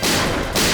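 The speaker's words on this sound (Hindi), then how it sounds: "गोली गोली।" Gunfire bursts out inside a house as someone shuts themselves in a locked room, a dense, loud, sustained blast filling the whole short moment with a brief dip near the end.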